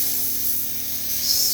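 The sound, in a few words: spray paint test on miniature models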